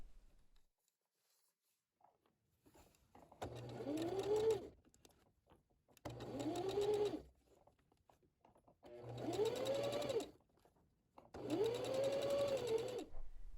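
A sewing machine stitches down a pinned fabric edge for wrap pants. It runs in four short bursts of rising and falling motor whir, each separated by quiet gaps, heard close and alone.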